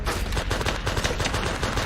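Enemy gunfire in the shooter game Project IGI, a dense, rapid run of shots crackling continuously over a low rumble, loud and close with no pauses.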